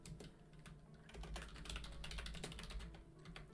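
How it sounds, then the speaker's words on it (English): Keys on a computer keyboard clack in quick, uneven bursts during a livestream, close and distinct over a quiet room. "Sorry if you can hear my keyboard."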